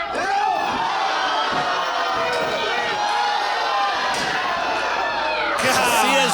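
A PrideStyle pro wrestling crowd cheers and shouts loudly throughout a dog collar match, with dense overlapping voices and occasional swells of excitement, under a commentator's voice.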